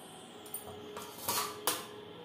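A lid set onto a pot of marinated chicken for a Bengali chicken curry, a few light metallic clinks and taps close by in a quiet kitchen.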